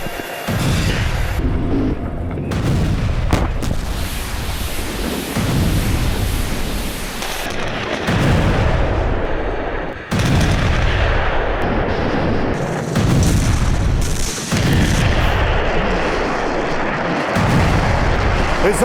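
Heavy explosions from a Russian thermobaric weapon attack: a continuous, loud roar of repeated booms and blasts with rumbling bursts every few seconds, and no voices.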